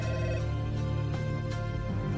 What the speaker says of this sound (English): the phone rang at early